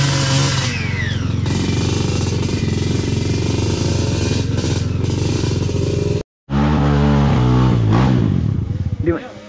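A Kawasaki KLX140RF dirt bike engine drones loud and close on a trail in the Philippines, with a steady revving roar that cuts out briefly near the end, then returns rising and falling, and people talk over it.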